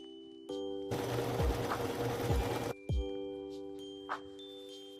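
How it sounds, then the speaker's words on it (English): A sewing machine stitches a fabric strip for a quilt, running in one steady mechanical burst of about two seconds, then stopping, with light clicks and taps before and after. "I sew on a second strip of fabric."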